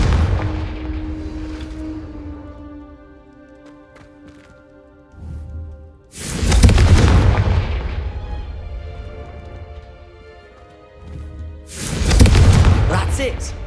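Confringo spell blasts in the video game Hogwarts Legacy land as two loud, booming explosions a few seconds apart, each decaying slowly over a softer background of game sounds.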